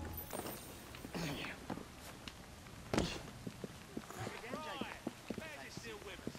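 Horse hooves clopping on a street in the Victorian London setting of Assassin's Creed Syndicate, a steady run of close, crisp clip-clop beats with someone talking over them.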